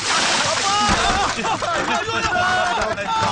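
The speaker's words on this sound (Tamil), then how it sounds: "டீ குடிக்க வந்தே மேல ஊத்திட்டானே" Tea splashed over a person at a tea shop in a Tamil comedy scene, a loud wet splash and slosh of liquid, close and messy, mixed with shouting voices.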